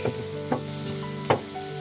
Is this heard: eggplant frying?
yes